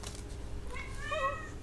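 A pet cat stuck under a couch gives a single drawn-out meow, rising and falling and fairly close, over a steady background hum.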